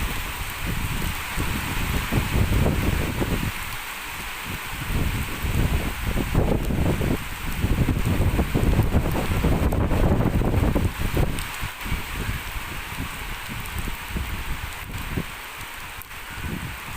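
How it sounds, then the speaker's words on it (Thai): Heavy rain driven by gusty wind outdoors where elephants play, a continuous rushing hiss with surging gusts and buffeting on the microphone, no voices. "ฝนเริ่มแรงมาแล้ว"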